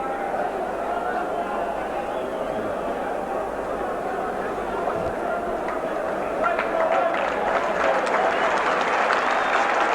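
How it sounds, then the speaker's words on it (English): Stadium crowd applauding a long run by Whitfield in a 1984 Wigan v Warrington rugby league Lancashire Cup match, steady broad clapping and cheering heard at a distance beneath a commentator's continuous talk, swelling slightly toward the end. "Great round of applause going up for Whitfield after that long run"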